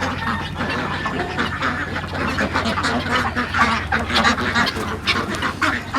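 A flock of farm ducks quacking continuously, many overlapping calls close by, fairly loud and busy with no talking.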